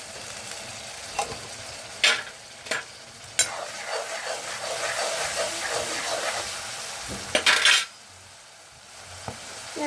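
Ginger garlic paste sizzles softly in a pan for a crab dish, with a steady frying hiss broken by several sharp clinks and scrapes of a spoon stirring against the metal.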